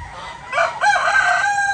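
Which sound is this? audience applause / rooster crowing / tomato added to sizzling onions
rooster crowing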